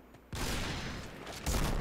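A sniper rifle fires in the video game Point Blank, a sudden loud blast that cuts in and holds as a dense burst, followed by a second sharp crack near the end.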